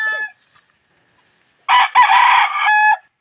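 A Lemon Sweater gamefowl rooster crows once, loud and close, a single long call of about a second and a half that starts after a brief silence.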